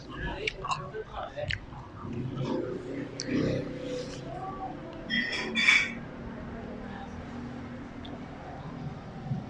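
Someone eating a corn fritter (perkedil jagung) at close range, with soft moist chewing and small crunchy bites, plus occasional murmured sounds between mouthfuls.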